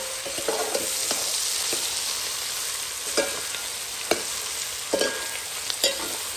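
Smoked sausage and brinjal stirred in a frying pan, a soft steady sizzle under occasional sharp clicks and scrapes of the utensil against the pan, close and moderately quiet, no speech.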